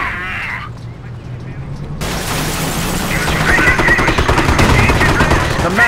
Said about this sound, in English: The manor is taking fire.